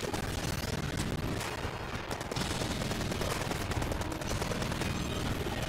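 Automated turrets in the video game Enter the Gungeon fire nonstop, producing a loud, dense machine-gun roar of rapid overlapping shots that runs unbroken from start to finish, with no voices.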